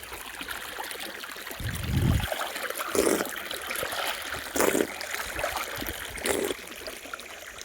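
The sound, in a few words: water flowing from new borewell into field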